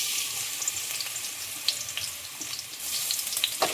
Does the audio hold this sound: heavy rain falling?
no